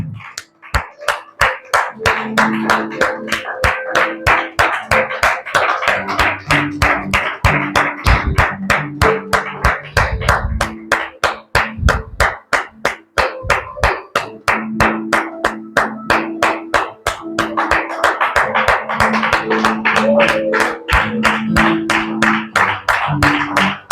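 A church congregation claps in a steady, even beat for the whole stretch to celebrate Jesus, with sustained music tones underneath.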